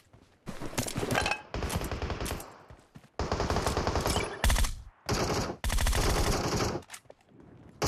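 Video-game gunfire comes in several loud bursts of rapid automatic shots, separated by short pauses. The shooting is close and dominant, with no talking over it.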